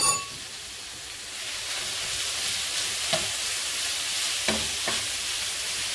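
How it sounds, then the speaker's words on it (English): Shrimp searing in a hot pan give a continuous soft sizzle with a few faint utensil taps, quiet and steady, with no voices. "Time to add the shrimp. I'm going to cook my shrimp really quickly."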